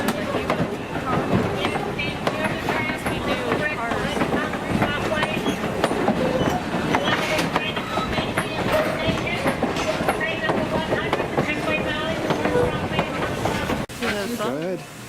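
A passenger train runs with steady clickety-clack and rumble at a boarding area, with people talking over it throughout.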